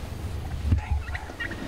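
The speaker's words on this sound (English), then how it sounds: "sure they're gobblers." Wild turkey gobblers in Texas give a couple of short gobbles at a moderate distance against quiet outdoor background noise.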